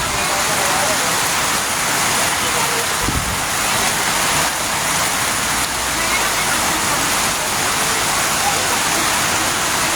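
Heavy typhoon rain pours steadily during flooding along the Marikina River, a dense, continuous hiss and roar of water that stays loud and unbroken throughout.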